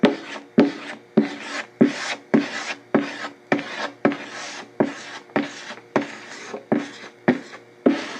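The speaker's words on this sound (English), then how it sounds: "I'm just using a squeegee" Rhythmic scraping strokes of a squeegee spreading Zpoxy pore filler across the wood grain, about a dozen close, even passes, each with a rasping swell and a short gap.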